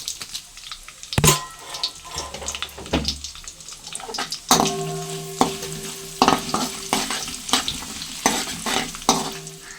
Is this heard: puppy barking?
no